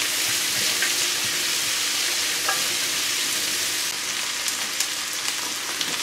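Vegetables lightly roasting in a pan make a continuous soft sizzle and crackle, with a couple of faint utensil taps and a slight drop in brightness partway through, no speech.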